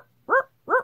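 A human voice imitates a dog's bark to describe hot sand, giving two short, evenly spaced woofs in a quiet room.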